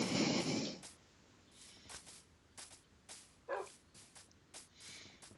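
A pet dog in the Minecraft video game gives several short, sharp barks and yips at irregular intervals, fairly faint after a brief louder burst at the start, with no talk.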